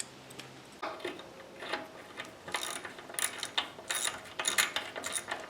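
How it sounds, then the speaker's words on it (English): A ratchet wrench works loose four 13 mm bolts on the underside of a Husqvarna pressure washer, with bursts of rapid, close clicking that grow louder and denser toward the end, with no talking. "flipping this over, you can see we just got the 4 bolts, so let me get them off. Looks like a 13."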